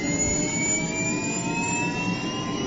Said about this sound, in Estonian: Helikopter Super Puma